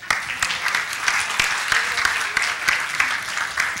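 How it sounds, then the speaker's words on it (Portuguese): Audience applause for a contestant dismissed at a mathematics launch event, a continuous close patter of many hands with a few sharper claps, lasting a few seconds. "Vai com uma salva de palmas."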